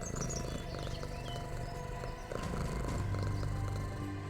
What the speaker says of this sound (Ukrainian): Котик.